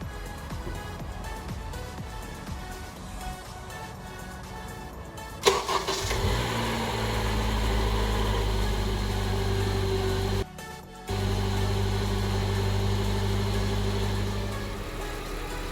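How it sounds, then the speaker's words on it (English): A 2013 Honda Civic Si engine cranks, catches and settles into a steady idle right after an oil change. A loud low hum holds throughout, with one brief dip partway through. "and now we could start the car."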